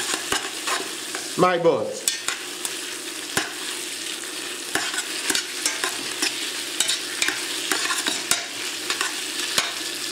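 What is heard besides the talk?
stirring tomato paste and veal bones sizzling in a pot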